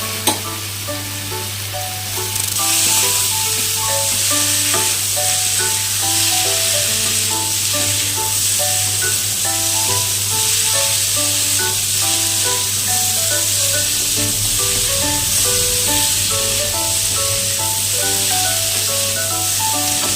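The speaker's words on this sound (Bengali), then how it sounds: "ফুলকপি ভালো করে নাড়াচাড়া করে নিয়ে" Cauliflower florets and sun-dried lentil dumplings sizzling in a pan of cooked-down spices, a loud steady fry with repeated scraping stirs throughout, close up and no talking.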